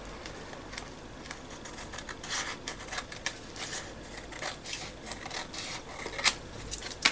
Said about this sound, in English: this side here I could actually just trim it a little bit more